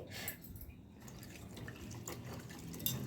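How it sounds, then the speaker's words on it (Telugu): Cut bombil fish washed by hand in lukewarm water, soft close splashing and dripping with light sloshing in a bowl, faint and steady. "గోరువెచ్చని నీళ్ళల్లో కట్ చేసుకున్న బొమ్మిడాయలను వేసి శుభ్రంగా కడుక్కుందామండి"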